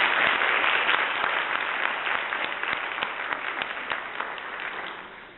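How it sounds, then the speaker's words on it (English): A crowd applauds steadily for several seconds, dense clapping that slowly thins and fades toward the end. "let's give her another round of applause"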